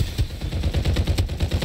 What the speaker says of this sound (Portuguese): Um tiro.